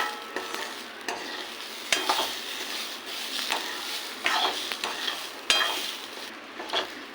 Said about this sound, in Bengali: তা একটু হালকা ফ্রাই করে নেব।